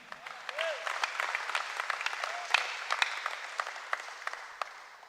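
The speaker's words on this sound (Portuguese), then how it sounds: "Se você quiser aplaudir essa verdade, aplauda." Church congregation applauding during a Portuguese-language end-times conference teaching, a steady patter of clapping at moderate distance with a few sharper claps standing out and faint voices beneath.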